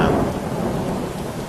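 Thunder rolls loudly through a storm in the video game Three Fourths Home, a steady low rumble with rain hiss that holds for the whole moment without easing.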